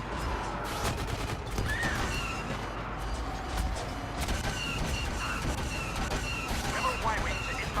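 Dense gunfire and blasts from an AT-ST walker in the Star Wars Battlefront beta on PS4, rapid bursts repeating steadily over a constant battle din, loud and close throughout, with a voice talking over it.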